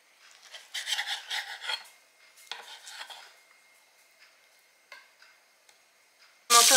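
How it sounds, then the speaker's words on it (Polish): Washed and dried chicken liver in a frying pan, bursts of crackling, spattering sizzle that comes and goes, close, ending with a loud sudden burst. "No to, że umyłam wątróbeczkę i osuszyłam, i tak na patelni strzela"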